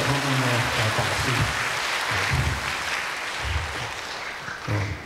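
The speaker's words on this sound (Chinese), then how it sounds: "我们是在鼓掌，来呢带给他们呢来打气" A crowd of parents, family and guests at a school music class ceremony applauds loudly and continuously, a dense wash of clapping that holds steady throughout, with no talk.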